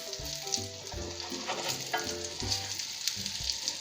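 Steady sizzling and crackling of cheese pancakes (syrniki) frying in a pan over low heat, close and continuous, with faint clinks and soft bumps underneath.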